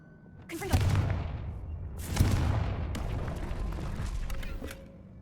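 Two Confringo blasting spells in Hogwarts Legacy go off about a second and a half apart, each a sharp explosive burst trailing into crackling, rumbling debris.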